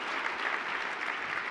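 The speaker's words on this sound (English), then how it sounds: "Give my mother a round of applause for that idea." An audience applauding at a talk on higher education, dense steady clapping from a sizeable crowd that holds at an even level throughout, with no speech over it.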